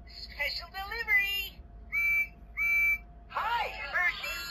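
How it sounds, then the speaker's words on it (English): Trackmaster talking Thomas toy train sounding its classic whistle, two steady bright tones between stretches of a recorded character voice, close and clear. "I do love that he has the classic whistle from the original series."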